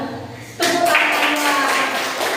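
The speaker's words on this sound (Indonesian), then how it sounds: "Tepuk tangannya." Students clapping in a school classroom, a dense burst of applause that starts abruptly and holds steady and fairly loud to the end, with a murmur of voices underneath.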